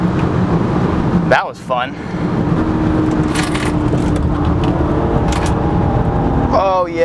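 A 400 hp BMW 335i drives at speed over a bumpy road, its steady engine and road roar continuous throughout, with a man's brief remark partway through.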